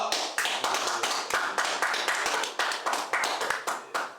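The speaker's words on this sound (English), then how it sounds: "Clap it up." A small group claps at a live interview session, quick regular claps close to the mic that form a fairly even, punchy rhythm with a few brief pauses.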